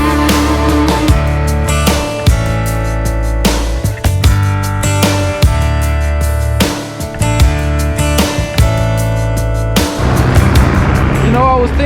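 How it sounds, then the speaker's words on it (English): Busy street traffic in Colombia with many motorcycles, on a road trip to Villavicencio: loud, close engines revving and passing one after another in a steady roar, with intermittent talk. "one thing I do notice here is that there are so many motorcycles"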